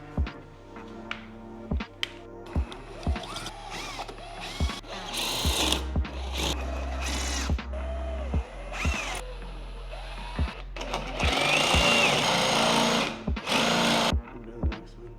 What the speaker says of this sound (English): now I'm gonna be drilling a 1/2 inch in to all these treads.